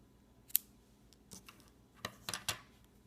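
Scissors snip through rainbow loom rubber bands during amigurumi-style doll making, a few sharp, close, quiet clicks spaced out irregularly.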